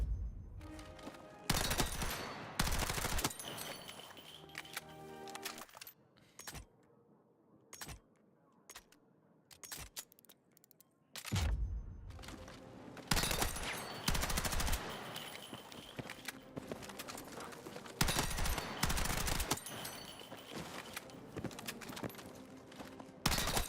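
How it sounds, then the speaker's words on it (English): SMG gunfire in GTA Online: several loud rapid bursts of automatic fire, with a quieter stretch in the middle carrying scattered single shots before dense firing resumes. "I need to get kills with SMGs"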